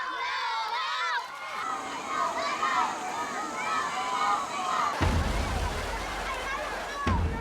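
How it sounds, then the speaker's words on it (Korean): Crowds from three Ifugao villages cheer and jeer at a tug-of-war where two streams of the Hapao River meet, a dense roar of shouting with water sloshing nearby, heard under a narrator's voice. "각 마을 사람들은 온 힘을 다해 응원과 더불어 상대팀에게는 야유를 보냅니다"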